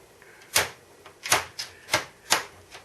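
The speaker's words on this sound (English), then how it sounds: "So again, we're using my scissors." A series of sharp snipping cuts from scissors, about five crisp snips at an uneven pace, close by in a quiet room.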